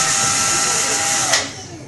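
A power driver whirs as it backs out the center screw of a door's top hinge, a short, close, continuous whine that tails off at the end.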